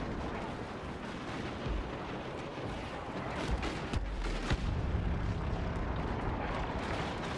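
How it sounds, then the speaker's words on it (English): Star Wars Battlefront battle on Jakku with dense, continuous booming gunfire and blasts forming a loud wash of combat noise, with sharper shots standing out midway. "I hear blaster fire, but I can't see anyone."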